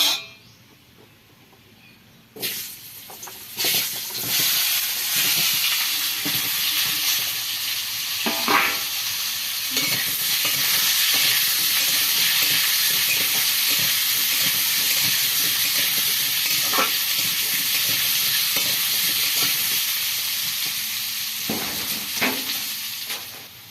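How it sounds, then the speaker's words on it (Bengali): Potatoes fry in a pan on the stove: after a brief quiet start, a continuous hissing sizzle builds and holds, broken by occasional stirring scrapes and clinks nearby. "এবার আলুগুলো ভেজে নেব"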